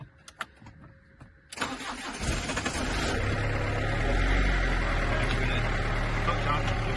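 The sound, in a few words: van diesel engine starting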